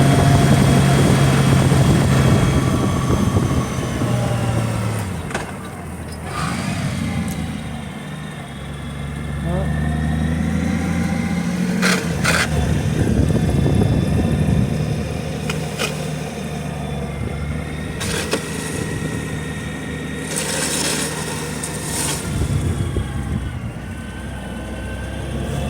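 Honda Goldwing fitted with a car tire riding figure eights, its engine droning and rising and falling steadily throughout, close, with a person talking over it.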